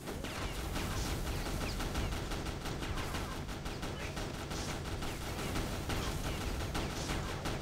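Dense, continuous gunfire from CrossFire's zombie mode, a game firearm that drops an explosive magazine, rattling steadily and loudly throughout with no pauses or voices.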